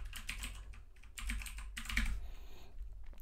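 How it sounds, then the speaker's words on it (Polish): Computer keyboard typing in bursts of rapid clicking keystrokes, close and fairly quiet, with short pauses between runs and a low hum underneath. "Bojku, ja się mylę po prostu z tą klawiaturą"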